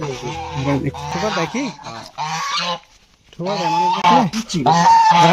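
Geese honk loudly and repeatedly nearby, their harsh nasal calls coming in clustered bursts with a short pause midway.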